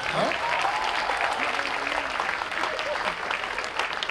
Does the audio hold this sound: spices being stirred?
no